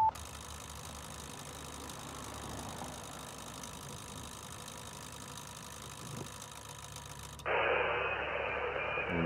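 A 20-meter amateur radio with a built-in antenna tuner and a toroid setup hisses with broadband static noise, then the tone shifts abruptly into a brighter, louder band-limited hiss as tuning takes hold, with no voices.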